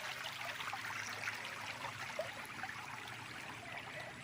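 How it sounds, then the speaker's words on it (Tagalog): Creek water flowing at a stream crossing on a farm lot in Pagsanjan, Laguna, a steady soft rushing and trickling close by, continuous and alone without voices. "Tuloy-tuloy po ang agos ng tubig dito."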